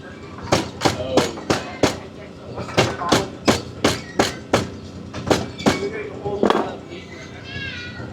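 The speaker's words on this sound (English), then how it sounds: "Then I take a broom pounder because I want to get this even tighter to the handle" Broom pounder striking the cordage of a handmade broom to tighten it against the handle, a series of sharp evenly spaced knocks in two quick bursts, close and clear, with no talk over them.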